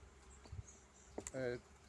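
Honey bees at a hive during honey extraction from a weighing hive. A faint, quiet background is broken by a brief buzzing burst near the end, along with a few small clicks.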